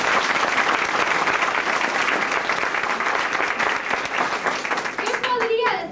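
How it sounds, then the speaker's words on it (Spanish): A theatre audience at a women's cultural week event applauds Julia Ruiz: dense, loud, sustained clapping throughout, with a voice briefly speaking over it near the end. "Un gran aplauso para ella"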